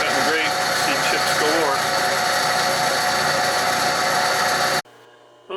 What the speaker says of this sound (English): Just cut this face down until I get rid of that divot, whatever caused that.